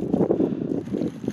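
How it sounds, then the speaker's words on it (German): Strong wind buffets the microphone on an outdoor hike with a campfire being lit, a loud, rough rumbling gust that swells and eases without a break, with no talking. "Er windet derartig"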